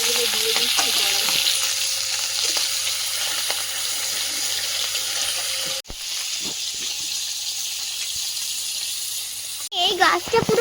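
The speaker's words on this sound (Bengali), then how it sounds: "মাছগুলো দিয়ে দিচ্ছি কড়াই।" Bhetki fish pieces hit hot oil in a kadai (wok), a loud continuous sizzle and hiss of frying that persists for several seconds, briefly broken by stirring clatter and a voice near the end.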